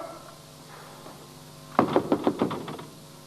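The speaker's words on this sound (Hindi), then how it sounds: "इब्रार, दरवाजा खोल" A quick run of about six firm knocks on a wooden door comes after a quiet stretch, close and sharp in a Pakistani TV drama scene.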